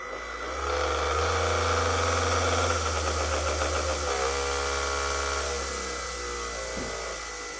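A cheap cordless AliExpress polisher with six speed settings spins off-centre, giving a steady, close motor whine with a buzzing tone that dips slightly in the last seconds.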